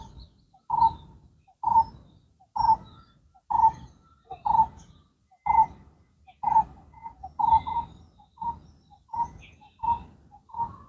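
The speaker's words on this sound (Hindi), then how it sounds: "बड़ी प्यारी प्यारी आवाज में चिड़िया बोल रही हैं।" Outdoor birds calling in a slow, regular series of about a dozen soft cooing notes, each a short mid-pitched hoot with brief gaps, fairly close and clear over a quiet background.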